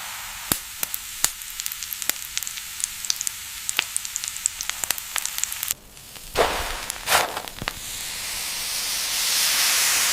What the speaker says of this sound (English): The frozen dosa is placed onto the hot surface.